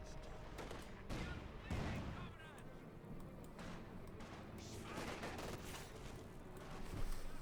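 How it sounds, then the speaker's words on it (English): Machine-gun and artillery fire in the Company of Heroes 2 strategy game, with a K1 heavy tank in the fight: dense, continuous battle noise with repeated bursts and louder blasts near the start and end. "The machine gun certainly proving to be quite handy here for Koniux several times."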